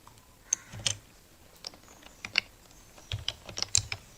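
Keys on a computer keyboard clack in short irregular bursts as words are typed, close and fairly quiet, with pauses between groups of keystrokes.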